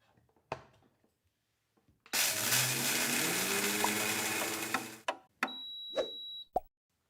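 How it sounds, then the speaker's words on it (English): An OmniBlend blender grinds coffee beans in a loud, steady roar lasting about three seconds, framed by a few clunks and knocks before and after, with a short electronic beep near the end. "The OmniBlend can grind coffee beans."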